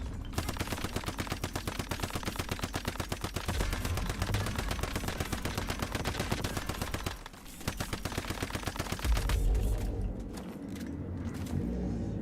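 Suppressed automatic gunfire in the game Once Human, a rapid steady stream of muffled shots running for several seconds, a brief pause, then another fast burst, no voices.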